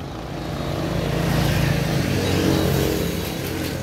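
Small Honda 2.5 HP mini water pump engine running at a used equipment yard, a loud continuous buzzing drone that swells and eases slightly, alone without talk.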